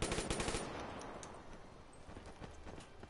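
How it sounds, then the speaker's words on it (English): A Galil assault rifle firing in Black Ops 3, a rapid automatic burst that opens loud and fades into scattered, fainter shots. "time to bring out the Galil"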